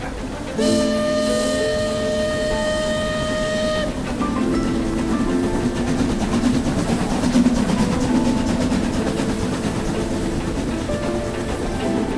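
A night train's whistle sounds in long steady tones, followed by the rumbling clatter of the passing train that continues loudly to the end.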